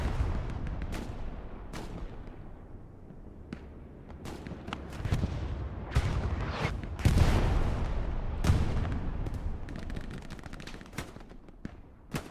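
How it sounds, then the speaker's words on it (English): Machine guns and rifles fire in a Hell Let Loose battle around Carentan, with steady distant automatic bursts, scattered single rifle cracks and occasional heavier booms echoing across the field. "Already landing on them, MGs firing on their position, whole bunch of rifles."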